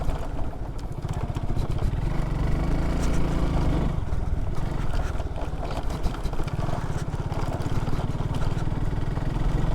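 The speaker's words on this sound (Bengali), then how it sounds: "মনে হচ্ছে বাইক লাফাইতেছে" Motorcycle ridden over a broken, bumpy rural link road between Tanore and Mohanpur police-station areas in Bangladesh; a loud, steady engine drone runs close throughout with rumbling road noise and no pauses.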